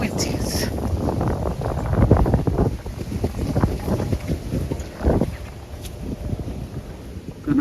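Cold wind gusts across a winter garden, buffeting the microphone with a continuous low rumble and roar that swells and dips, while a person talks underneath.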